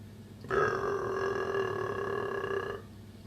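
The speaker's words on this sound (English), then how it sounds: "That was a pretend burp" A person makes a pretend burp with the voice: one steady, droning belch of about two seconds that starts suddenly and cuts off cleanly, with no other sound around it.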